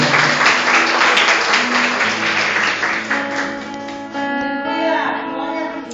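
A church congregation applauds together, a dense, steady wash of clapping that slowly thins over a few seconds while a held keyboard or organ tone rings underneath.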